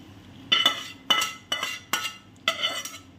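Two kilos of grated mangoes are stirred in a wok for sweet mango chutney, with five distinct metallic scraping and clinking strokes of a utensil against the pan. Each is close and crisp, with quiet between them and no talking.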